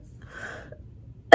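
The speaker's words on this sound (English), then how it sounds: "Coughing hurts so much." A single sharp cough from a woman recovering from a cesarean section bursts out at the end after a quiet stretch with a faint soft hum.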